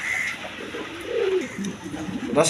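Several pigeons of mixed breeds at a Bangladeshi bird seller's stall coo in soft, low, rolling calls repeated through the moment, close by with background noise and no talk.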